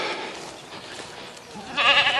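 Goats bleat in a pasture on a cold day, a close, loud wavering bleat at the end following quieter outdoor rustling.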